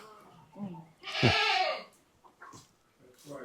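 A goat at a honeybee school apiary lets out one loud, wavering bleat close by, between stretches of people talking outdoors.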